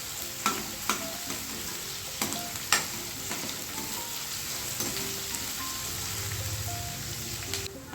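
Chopped onion frying in a pan for aloo matar bhaji, with a steady sizzle and sharp scraping stirs of a spoon at irregular intervals, close and fairly loud, no talk.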